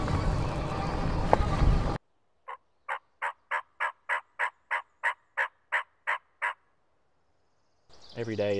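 A wild turkey tom gobbles outdoors in a long rapid series of about a dozen even pulses, clear and fairly close, with brief noise before and after.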